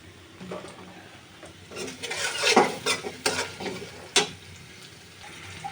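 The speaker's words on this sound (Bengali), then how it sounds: "এবার একটু ভেজে নিচ্ছি" Onion paste frying in a pan while a spoon stirs it, a soft sizzle under a series of scraping, clattering strokes that grow busier toward the middle, with a few sharp knocks, close by.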